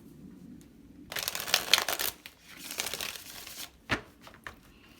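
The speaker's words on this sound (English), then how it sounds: "I'm going to do a couple more shuffles." A deck of tarot cards gets shuffled by hand at close range. There is a dense, crisp riffle of about a second, then lighter slides and taps, and one sharp snap near the end. No one talks over it.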